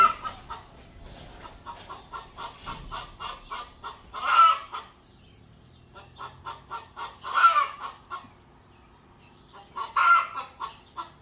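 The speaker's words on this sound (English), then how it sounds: "There's a chicken in here being a little loud" Chickens cluck in quick repeated bursts, with a few louder drawn-out squawks rising above the steady clucking, fairly close by.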